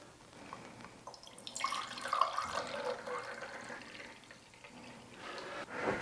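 Liquid poured into a 100-milliliter beaker while measuring an engine's combustion chamber volume, a steady close trickling and splashing that swells and then thins out over a few seconds.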